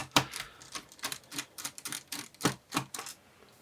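Small screws come out of the base of an Acer Aspire 3 A315-54K laptop, giving a quick irregular series of sharp little clicks and taps from close by, with no talking.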